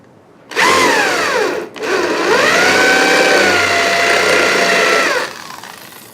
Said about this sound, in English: I'm drilling 1/8 inch steel with a cobalt bit